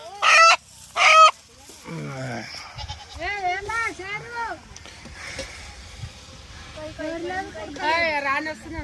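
A rooster or chicken gives several squawking calls, two sharp loud bursts at the start, mixed with people talking nearby.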